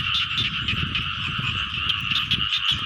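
Frogs croak in a dense, continuous chorus from a flooded rice field, with many overlapping calls pulsing steadily, close and loud, and no voices over them.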